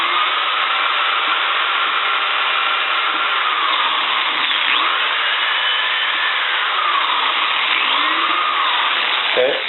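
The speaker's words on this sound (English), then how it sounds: "Because I've set the depth of the drill, I can just bring it straight down all the way." A drill press bores down through a board as part of a mirror restoration, giving a loud, steady motor whine and cutting drone that holds for the whole stretch with faint sweeping tonal shifts.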